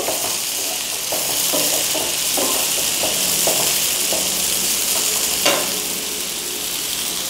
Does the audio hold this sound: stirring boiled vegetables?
yes